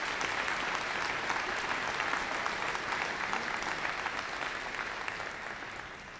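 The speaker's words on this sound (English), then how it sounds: "Let's give a round of applause for all our staff and faculty award winners." Ceremony guests at a 2017 autumn university convocation give sustained applause for staff and faculty award winners, a broad, even wash of clapping that slowly fades near the end.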